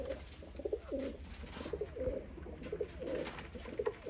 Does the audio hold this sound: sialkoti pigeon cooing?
yes